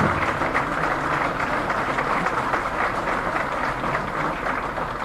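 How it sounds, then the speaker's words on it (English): Applause from an audience at a governor's ceremony, a steady, dense wash of clapping that holds at an even level throughout without breaks. "A good round of applause."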